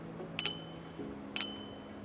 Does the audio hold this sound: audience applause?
no